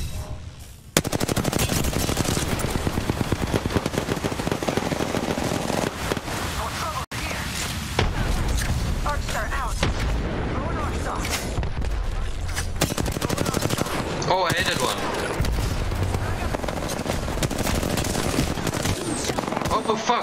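Automatic gunfire in an Apex Legends battle royale match, loud rapid bursts rattling almost continuously throughout, with players talking over the shooting.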